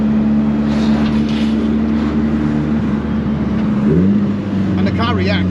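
A Datsun 1600 fitted with a 500hp SR20T engine idles with a steady low harmonic drone, then its pitch dips and settles back to a rough idle near the end, while someone talks over it.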